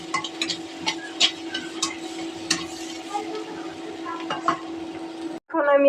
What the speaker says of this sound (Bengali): এখন এটা নাড়াচাড়া হতে থাকুন আপনারা দেখতে থাকুন